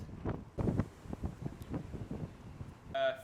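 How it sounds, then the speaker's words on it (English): Strong headwind buffets a cyclist on a winter road ride, a low rumbling roar of gusts battering the microphone in uneven surges that swell and fade, with a brief clattering burst near the end. "I'm getting battered by that winds."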